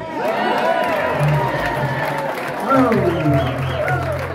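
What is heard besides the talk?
audience applause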